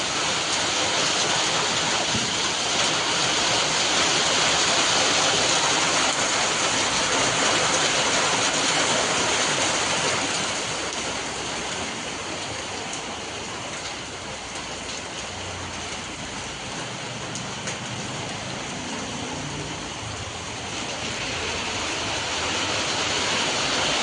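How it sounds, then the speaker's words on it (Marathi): Heavy monsoon rain pours down on a roadside in a dense, loud, continuous roar that swells, eases for a while, then builds again. "आता पाऊस सुरू झाला."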